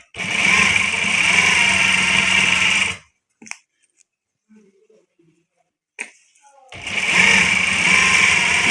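A sewing machine stitches a trouser crease in a loud, steady whirring run, stops for a few seconds of near silence with small handling clicks, then starts running again.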